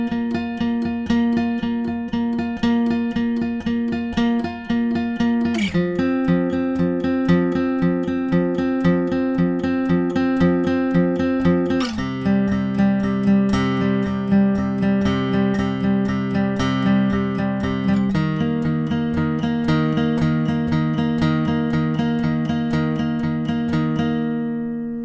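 Electric guitar playing the chorus riff of a song, steady alternate-picked notes with chord changes roughly every six seconds, sustained and clear with no talking.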